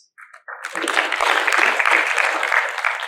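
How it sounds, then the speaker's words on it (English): Audience at the Kimisitu PLC annual general meeting 2023 breaks into steady, sustained applause for the directors, starting after a brief lull and filling the room fairly loudly throughout. "we really need to clap for the directors"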